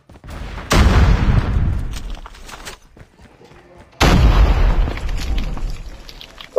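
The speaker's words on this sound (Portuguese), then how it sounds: "Botou uma granada." Grenade explosions in Call of Duty Mobile: two loud, heavy booms a few seconds apart, each rumbling out and fading before the next blast hits.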